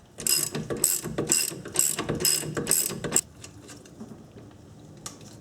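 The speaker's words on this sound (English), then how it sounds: "I am going to leave just one lower bolt here attached to the strut" Hand ratchet wrench clicks in quick rhythmic bursts while loosening bolts on a Subaru Forester rear strut, close and crisp, about six strokes before a quieter pause with a faint final click.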